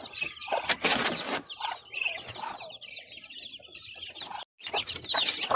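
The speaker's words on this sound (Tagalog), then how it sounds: "Ito kabakyard, oh, bagong pisa. Daming sisiw." Newly hatched chicks and hens in a backyard, with busy overlapping chirps and clucks throughout, a loud burst near the start and steady close calling after.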